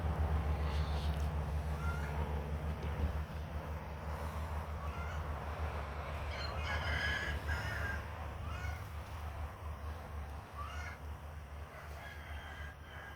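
Backyard hens squawk and cluck loudly while a rooster crows, a busy, continuous chorus of fowl calls close by over a steady outdoor background.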